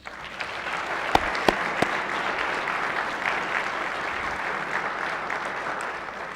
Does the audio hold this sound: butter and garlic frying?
no